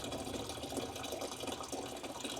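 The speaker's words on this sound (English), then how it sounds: "that's the beautiful part when you hear water running." Water runs steadily through an aquarium pump filter, a continuous close gurgling and splashing stream that holds level throughout with no talk over it.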